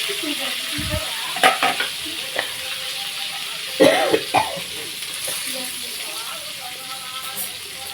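Fish pieces frying in a pan, a steady low sizzle with a few brief clattering stirs and scrapes, close by, a short sound like a voice or cough mixed in.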